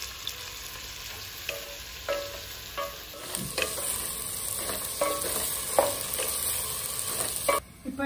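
Chopped tomatoes sizzle steadily in a hot pan while a utensil scrapes and stirs in repeated strokes, close and clear, with no talking.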